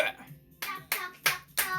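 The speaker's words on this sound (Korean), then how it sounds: "박수!" A few separate hand claps, about four sharp slaps spaced roughly a third of a second apart, close and fairly loud, from a family celebrating a win at Brawl Stars.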